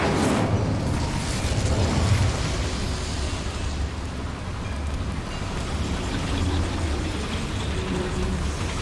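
The Incendio fire spell cast in Hogwarts Legacy, a loud roaring burst that swells into a continuous crackling, rumbling blaze, heavy and close throughout.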